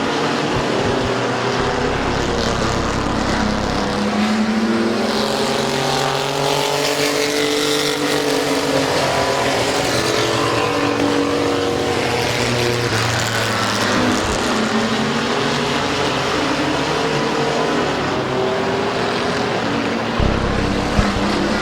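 Race cars at Midvale Speedway roar past continuously with engines rising and falling as the pack laps the track, loud and sustained, with a public-address announcer heard faintly over the noise.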